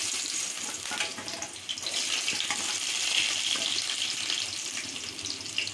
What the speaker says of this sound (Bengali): তাহলে এই পটলটাকে আগে আমি ফ্রাই করে নেব।